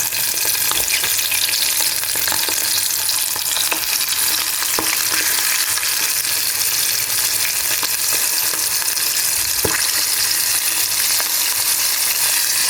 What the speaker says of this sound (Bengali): এটা খুব আস্তে আস্তে খুব সুন্দর করে ভাজতে হবে